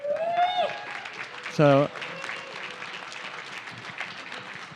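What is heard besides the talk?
audience applauding the badge team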